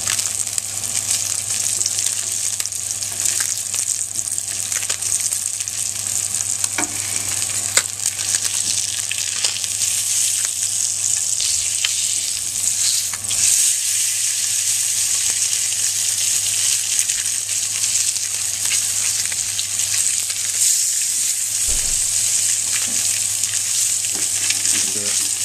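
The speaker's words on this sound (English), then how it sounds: "you know that the fish is starting to cook quite nicely" Seabass fillet frying in a hot pan, a steady loud sizzle that continues without a break, with occasional faint crackles and no talking.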